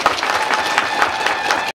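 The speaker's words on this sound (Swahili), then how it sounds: "Pigeni makofi tafadhali." Audience clapping steadily at a school event celebrating newly built modern classrooms in Tabora, a dense, continuous burst of applause that cuts off abruptly at the end.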